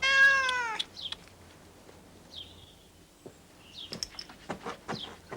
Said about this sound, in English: Pippin, leave the poor cat alone.